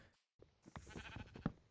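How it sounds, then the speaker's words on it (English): A sheep in the Minecraft video game gives a short bleat after a brief silence, a close, quiet bleating call with no speech over it. "Hello, sheep!"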